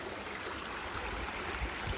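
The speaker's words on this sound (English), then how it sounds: "This small little humble creek has given me life again." Small mountain creek on a New Zealand alpine trail flowing in a steady, close, continuous wash of running water, with no voices.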